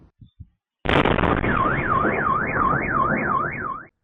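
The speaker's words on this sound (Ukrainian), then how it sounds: "Звуки вибухів та густий дим" A loud blast-like burst from a missile strike on a city morning, followed by a car alarm wailing in a steady rising and falling siren pattern.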